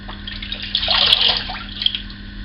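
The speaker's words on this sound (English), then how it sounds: "get some water on the face." Water splashes onto a face during a wet shave. Short soft splashes and trickles run over a steady low hum.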